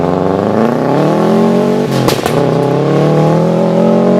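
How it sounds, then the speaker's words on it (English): A Subaru BRZ engine with unequal length headers revs up with a deep, burbling rumble, climbing in pitch, then blips sharply a couple of times before holding a steady growl. "this is what's gonna really give us that cool, deep rumble of the Subaru"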